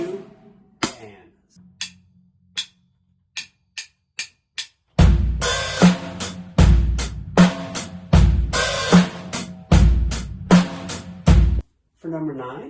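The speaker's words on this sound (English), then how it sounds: "we're going to put a sloshy hi-hat only on the and of beat 1." A basic eighth-note drum kit beat plays after a few sparse clicks, with kick, snare and a loose, sloshy half-open hi-hat washing on the offbeat, close and loud, looping steadily for several bars.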